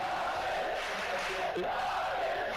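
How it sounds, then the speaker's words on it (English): Esports arena crowd at a Dota match between OG and Na`Vi, chanting for Na`Vi, heard as a steady, dense roar of many voices. "The crowd just took this opportunity to start chanting Navi."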